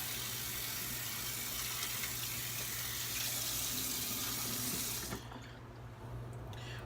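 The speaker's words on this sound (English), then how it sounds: "Rinse off the brush just a little bit." A shaving brush is rinsed under a running bathroom tap, a steady close hiss of water lasting about five seconds before the flow cuts off, leaving a fainter trickle with no talking.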